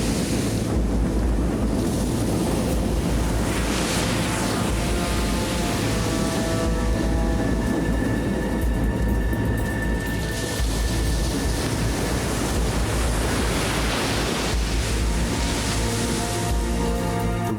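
Rough seas in a sudden squall, seen from the lighthouse tender ship Pharos near a string of islands, with loud, steady wind buffeting and heavy surging waves that roar continuously and close by, with no voices.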